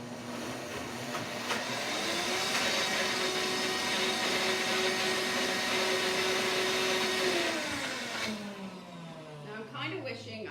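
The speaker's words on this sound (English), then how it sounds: "I'm kind of wishing I had used a smaller blender for this" A large blender grinds quinoa seeds, a loud, steady whirring roar that holds for several seconds and then winds down in pitch as the motor slows.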